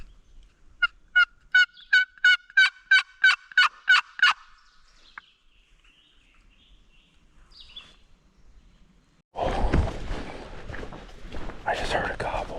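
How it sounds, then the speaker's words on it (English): A wild turkey gobbles far off during a spring hunt in hilly, brushy terrain, a rapid run of about ten faint, evenly spaced gobbling pulses, then quiet, then close rustling noise. "I just heard a gobble. I think it's a little further to my right."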